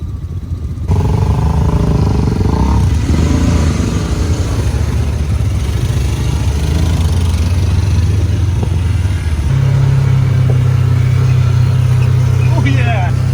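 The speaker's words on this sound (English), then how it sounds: "Slam it right into gear with it all revved up like that." A small ATV engine runs loud and close, revving up and settling into a higher steady drone, with people talking over it.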